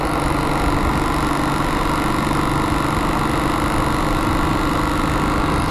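Steady broadband rumble of a Royal Enfield Bullet Classic 350 BS6 motorcycle idling, with a faint rattling vibration from the handlebar under the engine drone, close and continuous throughout with no talk.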